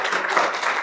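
A church congregation applauds during a youth day service at an Adventist church, a short burst of dense, steady clapping heard at moderate volume.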